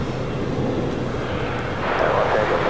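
Spirit Airlines Airbus A321neo jet at Los Angeles International Airport, a steady broadband engine roar that swells slightly toward the end, heard from a moderate distance.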